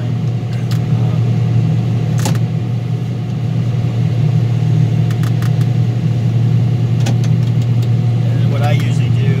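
On a farm, a bale grinder chews through cornstalk bales to make livestock feed, giving off a loud, steady low mechanical drone with a few brief sharp clanks and rattles on top.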